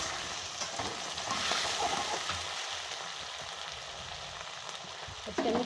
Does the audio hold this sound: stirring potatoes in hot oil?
yes